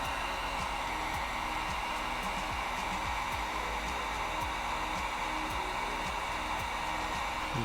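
A heat tool blows steadily on color-changing paint, a loud continuous airy roar and whine held close throughout, with no talking.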